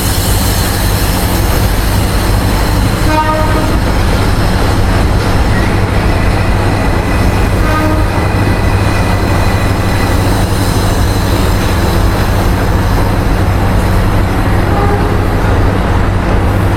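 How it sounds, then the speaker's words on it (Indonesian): The Senja Utama Jogja passenger train running on the line toward Yogyakarta, a loud continuous rumble of wheels and carriages with faint squealing tones rising briefly, steady throughout with no talking. "Tersedia di jalur 4 kereta api Senja Utama Jogja tujuan akhir stasiun Yogyakarta"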